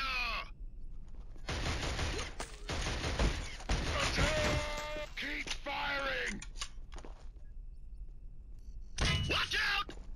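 Covering gunfire during a Killzone firefight on PS3, with bursts of shots mixed with shouting voices over a dense battle din, the noise stretching nearly continuously before a brief lull and a final burst.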